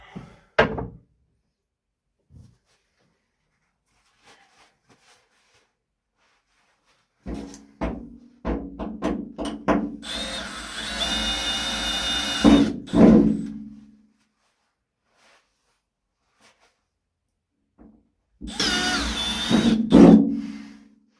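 A power drill whirs in two bursts, the first longer, drilling hinge holes in a WRX wagon's roof for a vent, between a few dull knocks and clunks nearby, with quiet gaps and no speech.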